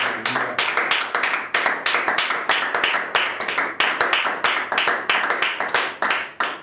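A church congregation claps in rhythm to acclaim the Lord during a worship service, producing a steady run of sharp, loud, evenly spaced claps that continues throughout with no talk.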